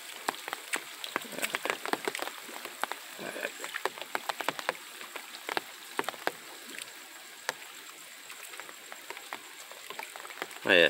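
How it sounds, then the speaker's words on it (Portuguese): Early-morning rain falling in Sobral, Ceará, a steady patter of many drops striking surfaces, with scattered louder close splats over a soft continuous hiss, no voices. "Ainda chovendo."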